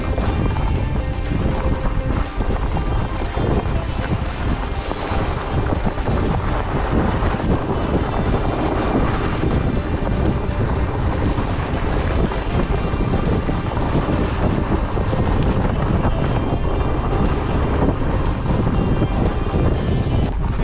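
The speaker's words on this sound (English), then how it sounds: "Feels like the wind's behind me a little bit, at least." Steady, loud wind buffeting the microphone while climbing uphill on a Surly Ice Cream Truck fat bike at high altitude in Mammoth Gulch, Colorado, a constant roar filling the whole clip with no talk.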